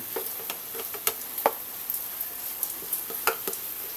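Bitter gourd (ampalaya) and egg fry in a pan, cooked well done into a simple lagat dish, giving a steady soft sizzle with scattered crackles and pops throughout, close by and alone without talk.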